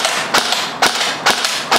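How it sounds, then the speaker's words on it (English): Four sharp metallic pings of BB pellets striking a barbecue grill, evenly spaced about half a second apart over steady background hiss. "So shooting at the barbecue again"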